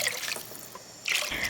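Water pouring into a cooking pot of sautéed spices for chicken kabsa, a brief splashing rush that fades and then swells again near the end, fairly close.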